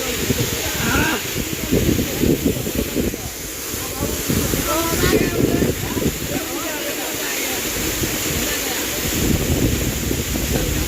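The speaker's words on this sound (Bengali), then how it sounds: "আর এত বাতাস হাওয়া প্রবল লাগছে আমি বসতে পারছি না খুবই হাওয়া আছে এখানে" Strong wind blows outdoors beside a waterfall, buffeting the microphone in a steady, close roar over a broad rush of water, with indistinct voices faintly mixed in throughout.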